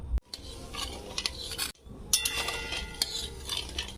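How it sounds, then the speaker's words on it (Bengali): A spoon stirs sugar into water in a pan on a gas stove, with repeated scraping and light metallic clinks against the pan at close range and no talk. "এবার গ্যাসটা আমি জোরে দেবো দিয়ে চিনিটা শুধু গুলে নেব"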